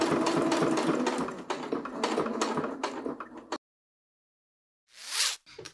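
A sewing machine stitching Velcro onto fabric, running in rapid mechanical whirring bursts for about three and a half seconds, then silence, then a brief soft rustle near the end.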